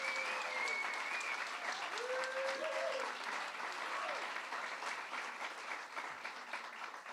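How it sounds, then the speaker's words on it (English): An audience claps steadily for Andy Cohen at a rally on legalizing gestational surrogacy. The applause is dense, sustained and moderately loud, fading slightly toward the end, with a few faint voices over it. "Andy Cohen, let's give him a round of applause"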